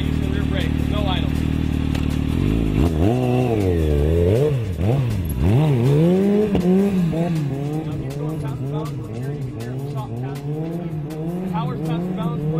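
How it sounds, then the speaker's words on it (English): A motorcycle engine revs and pitches up and down in a loud, close, continuous drone as the rider holds a slow wheelie with no idle, balancing it on the rear brake. "Ride a good slow wheelie by using the rear brake."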